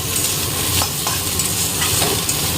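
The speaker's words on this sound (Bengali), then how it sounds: "থোর ভাজাটা বসিয়ে দিয়েছি" Soft salted banana stem fries in a pan tempered with nigella seeds, bay leaf and dried chilli, giving a dense continuous sizzle with brief stirring scrapes, close and loud, no talking.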